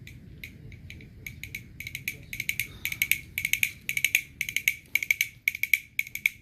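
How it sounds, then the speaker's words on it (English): A cartoon galloping sound effect for Bullseye the horse from Toy Story 2, made of quiet clattering clicks in a rapid triplet rhythm that builds from sparse taps into a steady gallop. "Here's Bullseye running in the cartoon."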